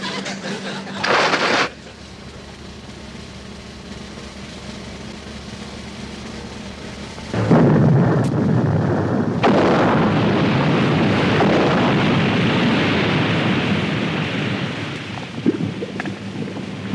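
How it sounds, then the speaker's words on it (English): Depth charges fired from a navy boat explode underwater in a booming series, a deep rumbling surge rising after a quieter stretch and rolling on loudly to the end, with faint voices underneath. "Fire depth charges!"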